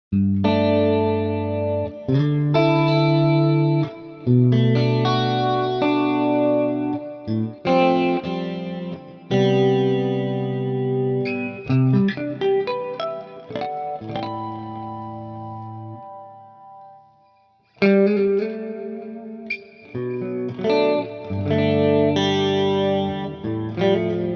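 Clean electric guitar chords and picked notes shimmer through chorus and effects from an Ampero II Stomp multi-effects unit, ringing out steadily with one brief pause before resuming.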